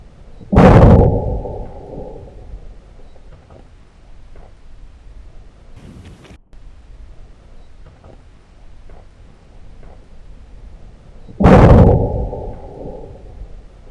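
Two loud, close gunshots from a 5.56 rifle firing Barnes rounds into drywall, each a sharp blast with a rumbling decay, spaced about ten seconds apart, with quiet shuffling between.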